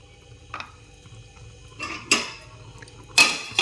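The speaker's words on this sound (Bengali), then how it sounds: "এইবারে আমি গ্যাসটা একদম হালকা করে একটুখানি ঢাকা দিয়ে দেব" A metal lid clatters onto a cooking pot of spice masala simmering on a low gas flame, a few sharp clanks and rattles over a quiet kitchen background.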